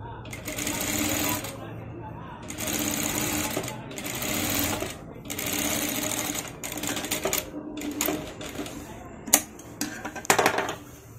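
Sewing machine stitching the back part of a maggam blouse, a rapid mechanical whirring chatter in close bursts of a second or two, stopping and restarting, ending with a few sharp clicks and knocks.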